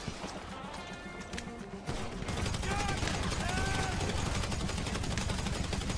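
Gunfire in GTA V Online, with bursts of shots and rapid fusillades over game background noise that turns louder and busier about two seconds in, alongside faint whistling tones.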